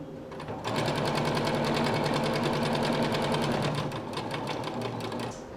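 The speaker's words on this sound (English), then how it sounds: "we'll do another row of stitching to encompass this entire unfinished edge" Sewing machine running steadily, stitching a row along the unfinished edge of a hammock bug net; the loud, continuous rapid mechanical whirr starts after a short pause and runs for several seconds alone.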